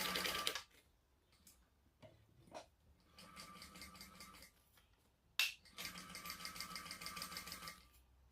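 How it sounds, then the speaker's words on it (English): Sewing machine basting a seam on a fabric backpack, close and quiet, with two runs of fast rhythmic stitching separated by a pause with scattered clicks and handling noises. "we're going to just baste down this one side first"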